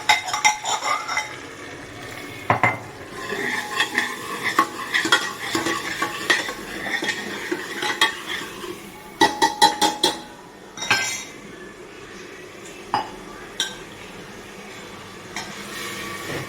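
A spoon stirs dal with tomatoes and spices in a metal pot, close scraping and clinking strokes in uneven bursts, with sharper clusters of metallic taps partway through over a faint sizzle.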